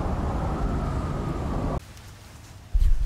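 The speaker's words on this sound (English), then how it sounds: "wait for the storm to finish up here." Heavy storm rain in the survival game Icarus, a loud broadband roar that cuts off abruptly partway, leaving quieter rumbling, then a low burst like distant thunder near the end.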